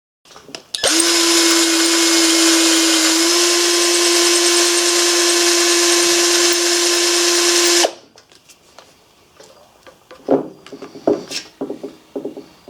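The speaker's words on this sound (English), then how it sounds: "I'm going to drill this out and tap it 1/4 20" A power drill bores a hole in a metal part on a Briggs 5S engine being fitted with a generator, a loud steady whine for about seven seconds, followed by quieter clicks and handling noises.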